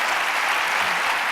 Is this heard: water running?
no